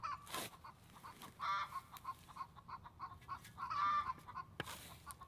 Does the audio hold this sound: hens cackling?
yes